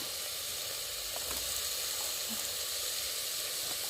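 Ginger, garlic and cumin paste frying in a pan in a village kitchen, a steady close sizzle and hiss throughout with a few faint stirring scrapes.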